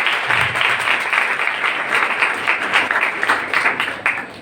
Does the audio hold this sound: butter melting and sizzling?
no